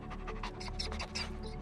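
A dog pants heavily and steadily in rapid, rhythmic breaths close to the microphone, with faint whimpering mixed in.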